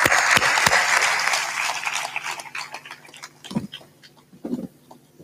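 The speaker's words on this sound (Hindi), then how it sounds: "ताली बजा दो सबके लिए" Audience applause at a Hindi religious satsang gathering, a dense burst of clapping that fades over several seconds into scattered individual claps.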